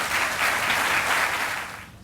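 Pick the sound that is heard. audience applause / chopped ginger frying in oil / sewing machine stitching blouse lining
audience applause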